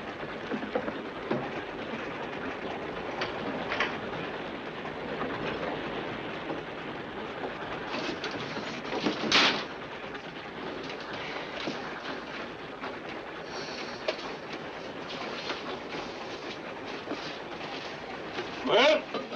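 A train rumbles along with a steady rushing clatter for a long stretch, and occasional sharper bursts over the continuous noise.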